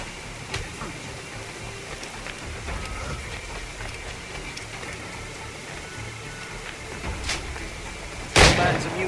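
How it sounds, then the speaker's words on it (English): A single loud pistol shot in Assassin's Creed IV: Black Flag cracks out near the end, sharp and close, breaking through a steady wash of rain and faint background noise. "A pistol shot, I reckon."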